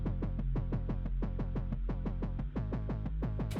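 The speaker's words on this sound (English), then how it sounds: "I got this sine bass" A sine wave bass layer in an electronic music track throbs in a fast, regular pulsing pattern of deep rounded notes, loud and alone, changing pitch partway through.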